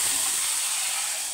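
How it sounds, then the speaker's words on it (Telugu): Spice tempering is poured into boiled lentil stew, giving a loud, steady hiss and sizzle that fades slightly over a second and a half, with no talking. "ఇప్పుడు మరిగించి పెట్టుకున్న పప్పుచారులో ఈ పోపు వేసుకొని కలుపుకోవాలి."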